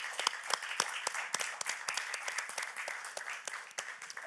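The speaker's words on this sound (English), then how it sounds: "So a big clap for Peter and the girls." Scattered audience clapping at a demo day event, distinct individual claps standing out over a lighter bed of applause, moderately quiet and uneven in rhythm.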